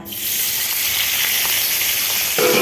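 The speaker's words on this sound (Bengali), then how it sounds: "এতে আমি দিয়ে দেব এই ক্যাপসিকাম আর পেঁয়াজ ভাজাটা" Fried capsicum and onion hit hot oil in a pan for a chicken kali mirch dish, a loud, close, bright hiss that sizzles steadily, then swells again near the end, with no talking.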